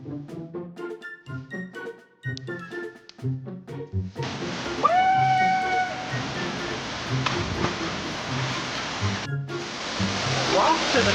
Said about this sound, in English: we're heading up to the YS Waterfall